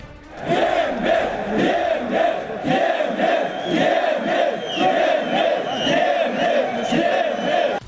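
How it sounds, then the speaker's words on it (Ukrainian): Hundreds of conscript soldiers of the National Guard protest in central Kyiv, their loud rhythmic chanted shouts coming in repeated waves from a large crowd. "з таких гучних вигуків розпочався тиждень у середмісті Києва"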